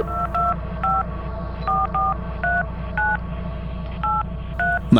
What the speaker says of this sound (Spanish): para después comenzar a marcar por teléfono a la policía